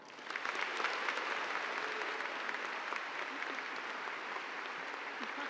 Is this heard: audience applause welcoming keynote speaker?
yes